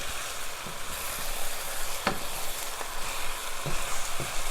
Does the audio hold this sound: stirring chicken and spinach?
yes